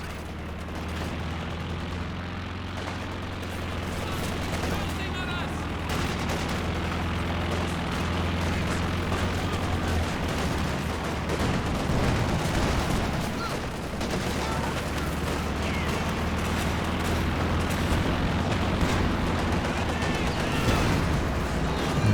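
Dense wartime battle din from Company of Heroes 2, a Sherman Firefly launching tulip rockets amid continuous gunfire, explosions and rumbling engines, loud and sustained throughout with a low steady drone underneath.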